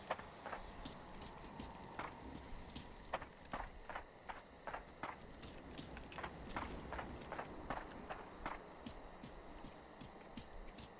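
Footsteps in the horror video game Horrorfield, a steady run of sharp, evenly spaced steps over a low background rumble, moderately close and without talk.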